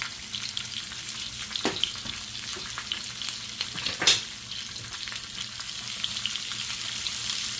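Seasoned food, salted and dusted with garlic powder, fries in a pan while being stirred, a steady close sizzle broken by a couple of brief scraping knocks, with no voices.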